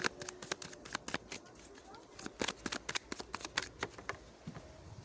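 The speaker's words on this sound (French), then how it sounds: "Je vais prendre une ou deux cartes là" Tarot cards being drawn and handled during a reading, heard as a rapid series of crisp, close card flicks and slaps that come in an uneven, busy rhythm, with quiet talk faintly underneath.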